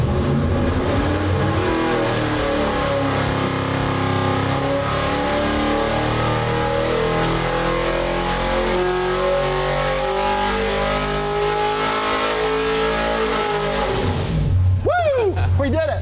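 A 632 cubic-inch big block Chevy V8, built for a 1977 tow truck sleeper, revs hard on a dyno pull with ignition timing at 34 degrees: a loud, sustained, climbing engine roar for about fourteen seconds, then a quick drop-off.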